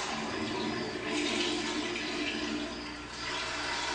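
A toilet flushes indoors with a continuous rushing wash of water that swells, dips briefly, then surges again, close and fairly loud with no voices over it.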